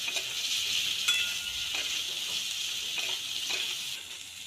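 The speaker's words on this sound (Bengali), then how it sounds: "এবার আলুটাকে একটু ভেজে নেব" Potatoes sizzling with onions in a pan, a fairly soft, even crackling hiss with light stirring clinks over a few seconds, no speech.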